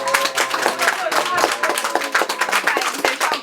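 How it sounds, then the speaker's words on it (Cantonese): Wedding guests clapping together, a dense run of close, rapid claps that lasts the whole stretch and stays loud and even, with voices mixed in. "好，俾掌聲大家。"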